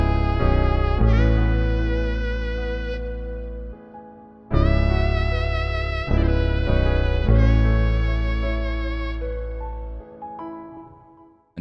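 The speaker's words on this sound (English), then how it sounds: "So I added that saxophone kind of as a counter melody." Saxophone counter melody over piano and bass in an emotional FL Studio beat, several sustained phrases that swell and stop with short gaps between, clear and upfront with no talking.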